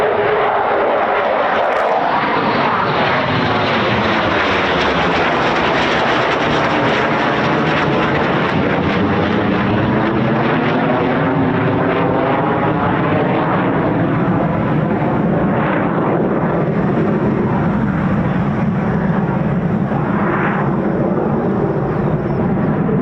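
A Eurofighter Typhoon FGR4 jet flies a circuit at RAF Coningsby, a loud continuous roar that swells and shifts in pitch as it passes, with wind buffeting the microphone throughout.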